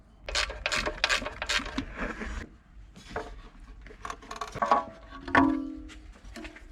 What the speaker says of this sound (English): Let's undo our crank angle sensor or cam angle sensor.